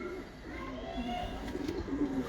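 Breeder pigeons of the Ababil bloodline coo softly and continuously at close range, a layered low purring from several birds, with faint background noise and no clear talk.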